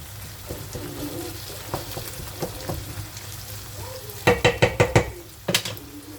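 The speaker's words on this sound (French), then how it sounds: "Laissez continuer à cuire les oignons" Onions softening in a pot give off a low, steady sizzle with soft stirring scrapes, then a quick run of sharp metallic clinks and taps near the end.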